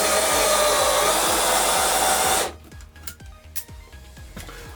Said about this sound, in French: quand vous allez appuyer, le cruciforme va sortir et vous allez pouvoir visser tout facilement